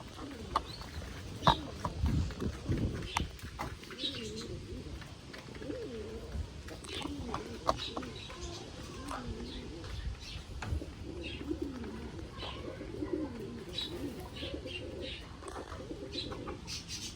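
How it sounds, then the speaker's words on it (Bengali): Pigeons in a loft, some feeding and some bathing, give soft repeated throaty coos close by at low volume, with occasional wing flutters and light tapping sounds and a voice talking at times. "এইদিকে পায়রাগুলো সব খাবার খাচ্ছে, দেখছো গাইস। আর এইদিকে পায়রাগুলো স্নান করছে"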